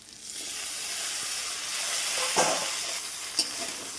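Pumpkin greens fry in a hot pan with a steady, close hiss and sizzle, broken by a couple of soft knocks as a utensil stirs them. No one speaks.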